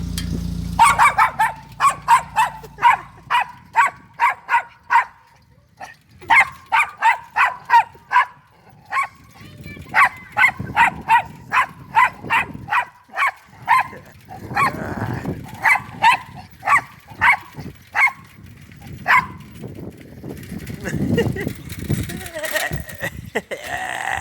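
A dog barks loudly and close by in long, rapid, rhythmic volleys separated by short pauses, with human voices mixing in toward the end.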